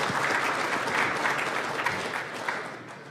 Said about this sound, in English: Warm round of applause, and go ahead and get started.